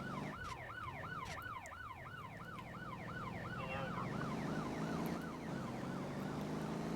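A wailing ambulance siren in the driving game Motor Town cycles rapidly up and down in pitch over a low engine rumble, steady and fairly close throughout.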